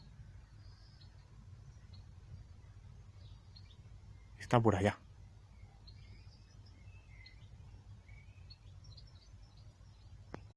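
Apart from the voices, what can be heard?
goldfinch calling near its nest in a garden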